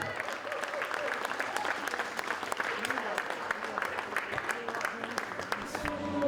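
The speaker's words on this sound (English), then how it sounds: "please give a big round of applause to Colin Miller Pavarotti after 25 years with a beard." Audience applause breaks out for a man who has just shaved off a beard worn for 25 years: steady, dense clapping from a crowd that fills the whole stretch, with some voices mixed in underneath.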